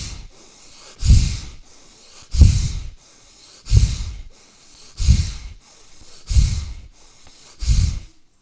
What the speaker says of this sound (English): Forceful inhales and exhales begin.